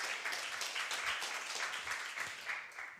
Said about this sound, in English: Can we give a round of applause to Pranav, please?